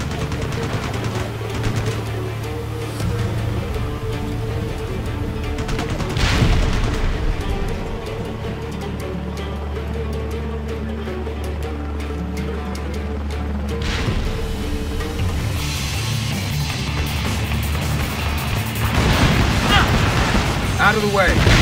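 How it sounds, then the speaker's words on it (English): Helicopter gunfire and explosions in the video game Ace Combat Assault Horizon: repeated booms and bursts of fire over a low engine drone, with loud blasts near the start and end. "Fire guns."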